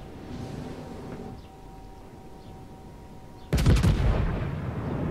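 Main guns of the French battleship Bretagne in World of Warships fire a single heavy, booming salvo partway through, breaking a low ambient hum and rumbling on afterward.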